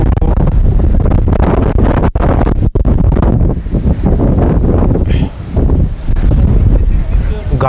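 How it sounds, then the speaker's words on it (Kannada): Strong wind buffets the microphone in loud, continuous gusts across a hillside outing in Coorg, with brief dips and voices talking faintly underneath. "ಭಾರಿ ತಳ್ತಾ ಇದೆ ಗಾಳಿ."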